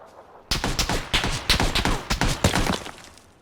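Rapid automatic gunfire in the video game PUBG, dense bursts of close, loud shots and thuds running for about three seconds after a quiet start, no talk over it.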